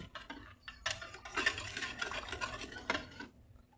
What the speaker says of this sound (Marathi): थोडंसं आपण टोमॅटो सॉस देखील टाकलेला आहे हे आपण चांगल्या प्रकारे ढवळून घेऊ